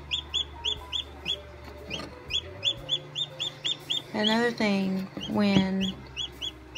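Newly hatched chicks in an egg incubator chirp in a rapid, regular stream of high peeps, with a person speaking briefly over them.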